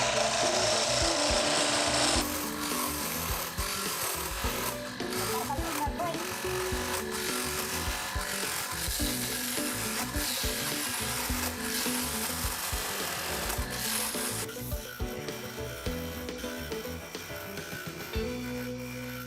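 Carved wood is sanded by hand with coarse 60-grit paper, giving steady close rasping and rubbing strokes in an uneven rhythm that continue throughout.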